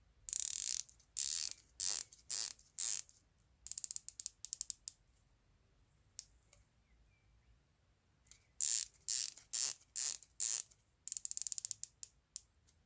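Ratcheting bezel on a Pagani Design PD1661 dive watch being turned, giving close, crisp bursts of rapid clicks in short rotations separated by pauses, with no talking.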